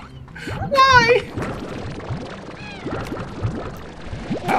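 Cat slimes in the video game Slime Rancher meowing, one loud close meow followed by fainter meows, over bouncy game sounds and a voice talking.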